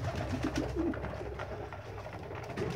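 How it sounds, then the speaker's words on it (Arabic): Domestic pigeons cooing close by in a nesting loft with eggs and squabs, short low repeated coos over a dense, steady background hum. "ده حمامة"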